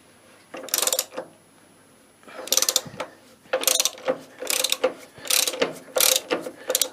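Spanner ratcheting a bolt loose, a series of six or so close bursts of quick rapid clicking separated by short pauses, with no talk.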